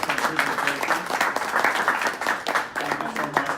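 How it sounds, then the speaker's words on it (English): Audience applause at a business talk, a dense burst of clapping from a crowd lasting several seconds, with voices faintly mixed in. "join me in a round of applause for Asha"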